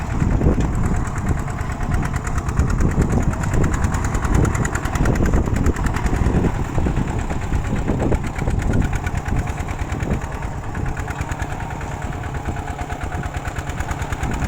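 RT100 engine on a farm tractor pulling a disc plough, chugging steadily at low throttle with a loud, close, even thumping beat throughout.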